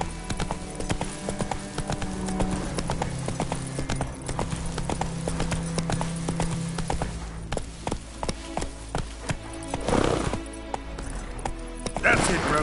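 Horse hooves clip-clop at a steady walking rhythm in The Witcher 3 game, close and continuous, with a voice talking over them and background game music.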